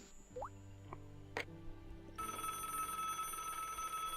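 Telephone ringing in the video game Broken Sword: a few short electronic ring bursts and tones in the first half, then a steadier chiming electronic layer, fairly quiet with no talk.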